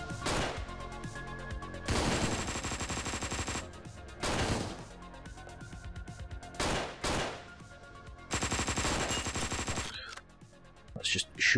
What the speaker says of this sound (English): Let's just shoot randomly.